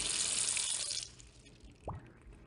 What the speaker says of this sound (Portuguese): Lavam a louça com a torneira aberta.